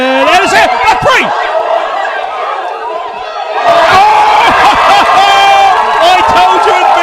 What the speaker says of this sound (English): The crowd are loving it here.